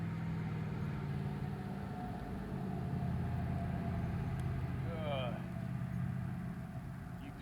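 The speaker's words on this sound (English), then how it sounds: "UPS truck drove by." A UPS delivery truck drives past a horse-training area, its engine a steady mid-level rumble that swells slightly and fades, with a faint high whine partway through.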